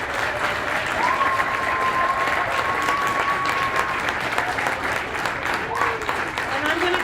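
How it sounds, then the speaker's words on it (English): Sustained applause from an audience at a National Civics Bee event in Buena Vista, Colorado, a dense even wash of clapping lasting several seconds with a faint tonal whistle or squeak over it. "let's give them all another round of applause"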